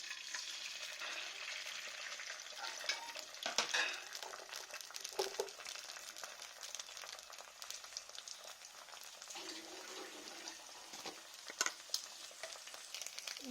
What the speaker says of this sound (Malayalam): നമ്മൾ വീണ്ടും കുറച്ച് വെളിച്ചെണ്ണ ആഡ് ചെയ്തിട്ട് അടുത്ത എഗ്ഗും ഈ സെയിം ഇതേപോലെ തന്നെ ഫ്രൈ ചെയ്തെടുക്കുകയാണ്.